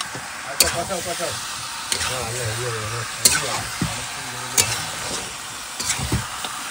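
Chicken being sautéed and stirred in a pan, with a steady frying hiss broken by repeated sharp scraping strokes of a spoon against the pan and some faint background voices.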